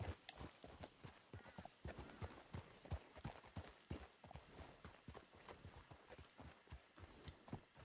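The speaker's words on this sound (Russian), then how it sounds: "Я как бы на украденной лошади сейчас скачу." Rapid rhythmic hoofbeats of a galloping horse in the video game Red Dead Redemption 2, a steady clattering drum of clip-clops at close range with no talking.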